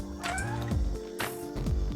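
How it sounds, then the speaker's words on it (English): A cat makes repeated rolling trills mixed with chirpy meows, close and fairly loud, in a steady run of short calls. "You're trilling your purrs?"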